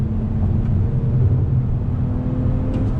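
A 2020 Toyota Avalon TRD engine runs in manual mode with a steady, low, throaty rumble close by, holding an even pitch throughout.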